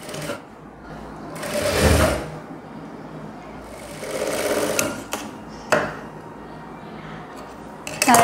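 A sewing machine stitches blouse fabric in two short runs of rapid mechanical whirring, with quiet handling clicks between them and someone speaking softly.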